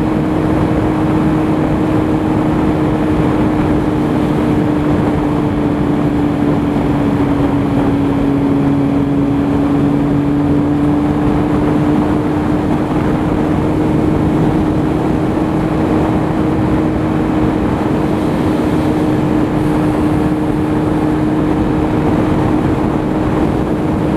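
A 2008 Kawasaki Z1000 fitted with Danmoto Carbon GP exhausts drones steadily while being ridden, a loud, continuous engine and exhaust tone that holds without a break, with no voices.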